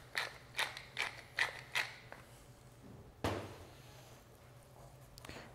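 Pepper being ground onto salmon fillets, a short run of five quick, fairly close ratcheting crunches from a mill, then a louder single clunk and a quieter stretch.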